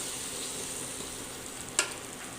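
Masala sizzles steadily in hot oil for a Bengali egg curry with potato, pointed gourd and soya, a soft continuous frying hiss close up with one brief louder crackle.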